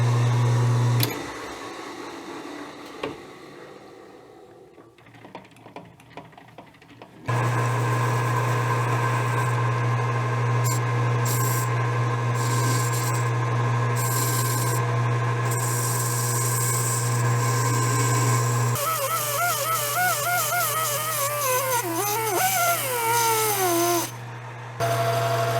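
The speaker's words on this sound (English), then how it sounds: "so now we'll cut the snap ring groove." A machine cuts a snap ring groove in an Aermacchi motorcycle fork tube, first as a faint scraping, then a loud steady metallic hum with rasping, and near the end a wavering, squealing cut.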